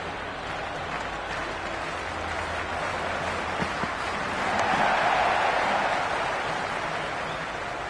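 A stadium crowd roars continuously at a Big Bash League cricket match between Melbourne Renegades and Hobart Hurricanes in the video game Cricket 26, a broad distant wash of cheering that swells in the middle.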